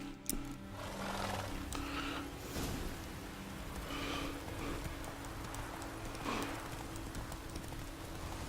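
Horse hooves clip-clop in the Witcher 3 video game, a quiet, steady run of repeated hoofbeats with an occasional snort over a soft ambient background.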